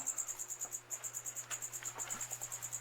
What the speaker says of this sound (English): Cricket's chirping.